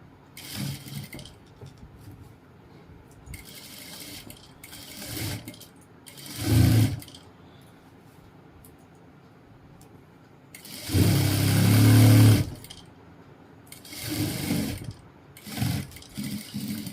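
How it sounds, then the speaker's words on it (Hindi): An electric sewing machine stitches a trouser seam in short bursts of whirring, the longest run near the middle, with quieter gaps between runs. "और अब इसमें हम सिलाई मारेंगे।"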